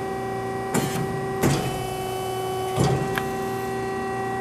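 A JMT WL 460DSAR 18-inch band saw's head moves on its up/down buttons: a steady electric motor hum, broken by three short mechanical clunks or shifts as the head starts and stops.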